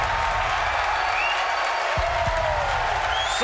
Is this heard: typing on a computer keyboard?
no